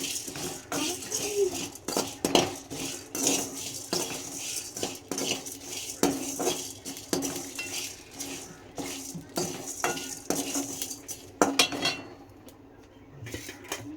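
Fennel seeds roasting dry in a little oil for a Sunday chicken gravy, with a utensil scraping and clinking against the pan in steady irregular strokes, close and fairly clear, no talk over it.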